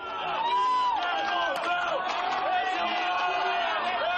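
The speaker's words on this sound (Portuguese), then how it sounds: "a torcida vibra com erros da equipe espanhola" A large stadium crowd of Grêmio supporters roars and whoops at a football match against Real Madrid, a dense distant wall of cheering with a commentator talking over it.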